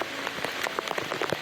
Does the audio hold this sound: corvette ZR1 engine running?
no